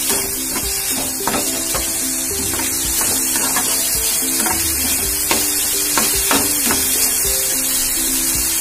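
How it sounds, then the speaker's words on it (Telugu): Chicken pieces for chicken poha fry on high heat in a loud, dense, unbroken sizzle, with scattered taps and scrapes of stirring close up and no talking. "హైలో పెట్టుకొని ఫ్రై చేసుకోవాలి."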